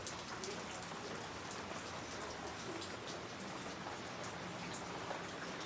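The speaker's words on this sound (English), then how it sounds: "It's raining really hard outside." Heavy rain falls outside in a steady, dense hiss with a constant patter of drops on surfaces, continuous and fairly faint, with no voices.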